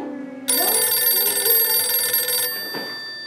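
A telephone bell rings loudly and continuously in an indoor school setting, a bright sustained electronic trill holding steady for about two seconds before cutting off, with a soft room tone before and after.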